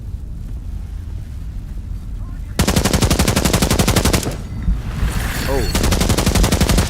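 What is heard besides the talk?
VSS rifle gunfire in video game Into the Radius 2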